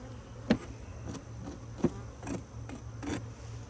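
Honey bees buzzing around hives in a cow pasture apiary, faint scattered buzzes with a few close passes over a low steady hum.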